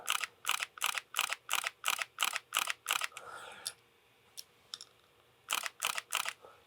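Rapid camera shutter clicks in a steady run of about ten sharp shots, a pause with a few faint stray clicks, then another quick burst of four, close and crisp in a quiet room.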